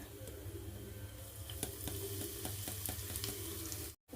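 Mustard seeds crackle and sizzle in a few spoonfuls of hot oil for a chutney, a steady close frying hiss with scattered sharp pops, cutting off abruptly at the end.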